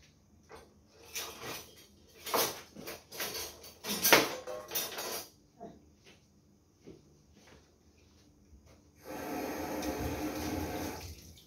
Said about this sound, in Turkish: Fasulyenin suyunu da koydum.